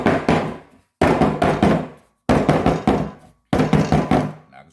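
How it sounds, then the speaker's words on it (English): A cake pan of margarita pound cake batter is knocked down on a kitchen counter in four separate bursts, each a quick cluster of hard, close thumps and rattles with brief pauses between. "Knocking some of the air bubbles out of it."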